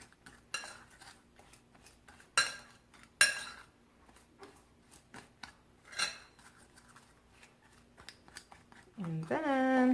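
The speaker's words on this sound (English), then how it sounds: "take a fork and you mix this all together" A fork mixes chopped nuts in a bowl for a pumpkin recipe, making scattered scraping and clinking strokes up close, some sharper than others, with a voice speaking briefly near the end.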